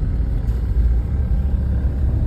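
Motorized tricycles and other traffic rumble along a Calapan City street, a loud, continuous low engine drone with no clear separate passes and no voices.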